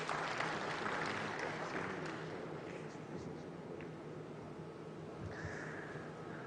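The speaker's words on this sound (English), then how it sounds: "Let's give them a resounding round of applause." Audience applause at a national consultative dialogue on small scale mining, a steady broad wash of clapping from a large crowd that holds fairly even throughout, slightly distant, with faint murmurs underneath.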